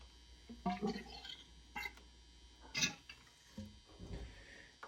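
Thick, sludgy oil with chunks of dirt drains from a Sherco 290 trials bike, giving faint irregular splashing and gurgling with a few louder glugs over a low steady hum.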